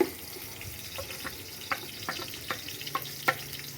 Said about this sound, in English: After adding oil, we add onions. We cook our onions until they are golden brown.